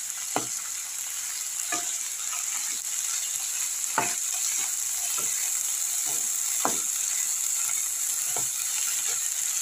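Salted vegetables sizzle steadily in a frying pan, with a constant hiss broken by repeated sharp scraping stirs at irregular intervals.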